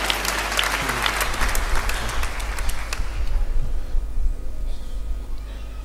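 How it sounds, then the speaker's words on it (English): A gathering of churchgoers breaks into a round of applause, dense steady clapping that fills the room for about three seconds before fading to a quieter murmur. "Give him a round of applause."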